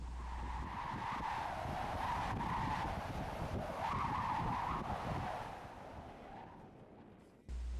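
A rodent protection gate at remote Ka'ena Point, Hawaii, moaning in wind blowing off the Pacific: a loud sustained eerie wail with shifting pitch and steady roaring rumble, easing near the end.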